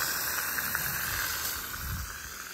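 Water hissing through a leaking irrigation line fitting on a plantation, a steady, faint, breathy spray that continues without a break and carries no voices.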